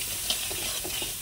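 Spiced masala with salt and a little chili powder is stirred in a hot pan just before prawns go in. A steady sizzle runs throughout, broken by several soft scraping stir strokes, close and alone with no voices.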